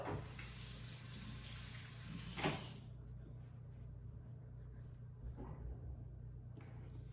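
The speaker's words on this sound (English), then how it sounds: "I'm gonna go wash my hands." Kitchen tap water running into a sink while hands are washed, a steady close rush of water that cuts off partway through, followed by faint clunks and handling noises, with no talk.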